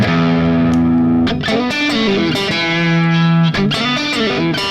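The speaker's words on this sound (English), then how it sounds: "And this is the complete, the original humbucker sound back." Harley Benton TE-90 electric guitar through its original humbucker pickup, strummed chords with a thick, driven tone, sustained ringing between a few sharp strums, loud and close with no voices.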